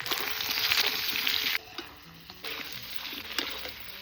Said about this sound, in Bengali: সিদ্ধ আলুগুলো তেলের মধ্যে দিয়ে দিচ্ছি।